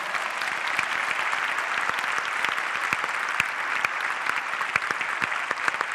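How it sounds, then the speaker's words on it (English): A yoga class claps together, a steady dense round of applause from the room, crisp and continuous with individual sharp claps standing out, no talk over it. "So you have to give double claps to them because they repeated for you."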